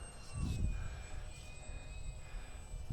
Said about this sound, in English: And this plane fly upside down.